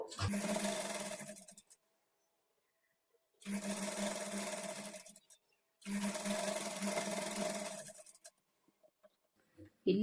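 Bursts of a sewing machine stitching a kurti, three runs of rapid whirring roughly two seconds each, separated by silent pauses, close and clear with no talking.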